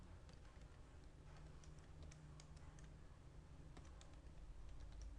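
Computer keyboard typing, with soft, quick key clicks that keep up steadily over a low background hum.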